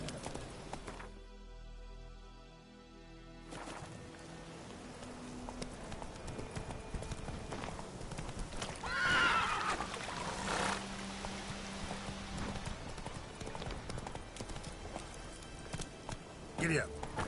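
The horse Roach trots in the video game The Witcher 3, its hooves making a steady clip-clop rhythm throughout under in-game ambience, with a voice speaking at points and a brief louder burst midway.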